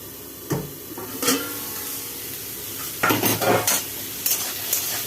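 Cut potatoes fry in mustard oil tempered with dried red chillies, a steady close sizzle broken by several short scraping stirs of a spoon against the pan.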